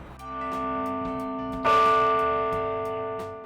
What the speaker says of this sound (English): This is the bell tower, which rings every hour on the hour.